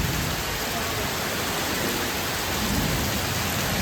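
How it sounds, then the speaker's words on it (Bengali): Heavy rain pours down on a village, a dense, steady roar of close, loud downpour that holds unbroken for the whole stretch with no voices. "এসে দেখুন প্রচণ্ড হারে বৃষ্টি হচ্ছে"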